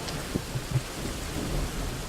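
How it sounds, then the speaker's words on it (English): Steady rain hiss and low rumbling thunder from the indie parkour game Lemma, with a few soft thuds near the start, carrying evenly and at moderate volume with no one talking. "The rain is interesting."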